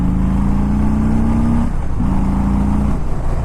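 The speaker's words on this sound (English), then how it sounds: "that sound that comes from that Milwaukee 8 engine, I absolutely love it." A 2019 Harley-Davidson Low Rider's Milwaukee-Eight V-twin is revved hard, its loud, deep exhaust note rising steadily, dropping briefly at a shift, then climbing again, close and without talk.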